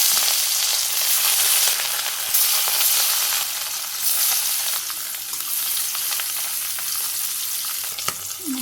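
Fish pieces rubbed with turmeric and chili fry in hot oil, a dense continuous sizzle and crackle that stays loud and steady throughout with no voices.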